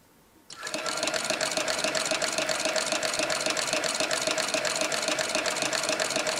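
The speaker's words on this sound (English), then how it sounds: "rethread your needle, and go back to stitching" A Slickbald Class 4 sewing machine starts up after brief quiet and stitches steadily, a loud continuous rapid mechanical whir with even ticking rhythm throughout.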